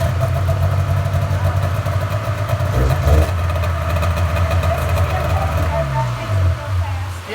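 A 1997 Polaris Indy Classic snowmobile engine running after electric start, a loud close idle with a steady low rumble and slight revving, with people talking nearby over it.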